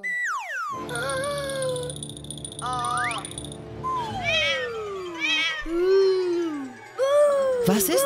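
Cartoon cat meowing repeatedly in drawn-out, pitch-sliding calls and wails, loud and close, with a steady musical tone running underneath.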